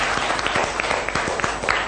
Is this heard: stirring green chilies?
no